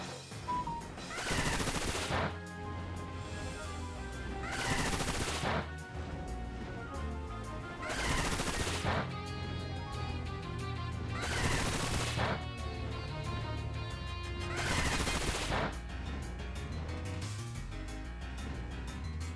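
Bullet Seed attack in the video game Pokemon Violet: five loud, broad bursts of rapid rattling impacts arrive at roughly three-second intervals over a layered game music bed, with no talking.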